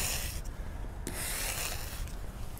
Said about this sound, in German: nutze ich auf der anderen Seite den Eiskratzer